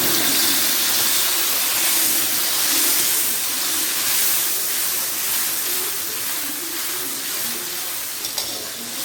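Steady, loud sizzling and crackling of blended spice paste frying in hot oil for Malaysian cucumber pickle, a continuous hiss close up with no talking.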